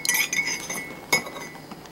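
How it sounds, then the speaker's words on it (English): A spoon stirring a honey and eucalyptus mixture in a glass, giving a few bright clinks against the glass with a soft scraping swirl between them, close and fairly clear. "I'm going to stir it once again."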